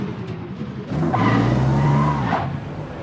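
Tires squeal as a car skids under weak, poorly gripping brakes in a video game, with a steady engine drone under a loud, sustained screech lasting about a second and a half.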